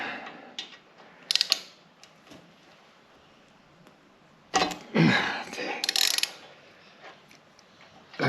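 Ratchet clicks loosening brake rotor bolts on a Harley Davidson Sport Glide, short bursts of mechanical clicking and clatter separated by quiet gaps, close and moderately loud.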